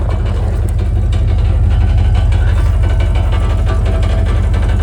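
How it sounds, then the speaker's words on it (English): A 1998 Jeep Grand Cherokee ZJ 5.9 Limited engine idles steadily and loudly nearby, its low exhaust rumble carrying a constant rattling buzz from something loose in the exhaust throughout. "it's definitely got something in that exhaust that's rattling"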